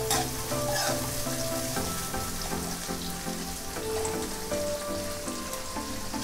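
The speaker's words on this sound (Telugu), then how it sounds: "ఒక రెమ్మ పుదీనా, ఆనియన్స్ లైట్ బ్రౌన్ వచ్చేదాకా కుక్ చేసుకోవాలి." Onions and a sprig of mint frying in a pan until light brown for mint egg fried rice, a dense, continuous crackling sizzle like heavy rain, close and even, with faint stirring, no voices.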